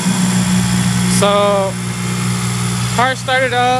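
Car engine catching and settling into a steady idle, a low drone running throughout; sharp harmonic tones sweep up briefly around the one-second mark and again near three seconds, with no clear talk over it.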